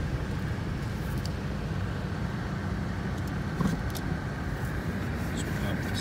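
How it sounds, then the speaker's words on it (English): A 1993 Ford Mustang LX hatchback with a four-cylinder engine and automatic transmission idles at a steady, quiet low rumble with no revving. "little four-cylinder engine running."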